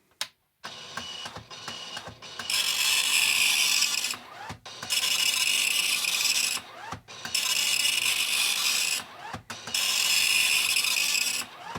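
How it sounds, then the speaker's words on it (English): A Commodore MPS-801 dot-matrix printer runs its built-in character set test, rasping loudly across each line in long mechanical passes, with brief clunks and pauses as the head returns between rows. "after I turn this on, it should just print the built-in character set over and over again"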